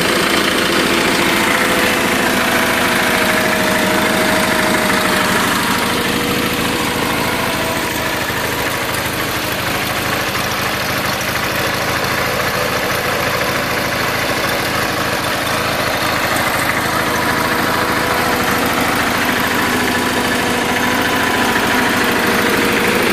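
A Case 446 tractor engine idles, slightly rough after a coil replacement and needing carburetor tuning, a loud continuous close-up rumble with steady vibration for the full length, no voices.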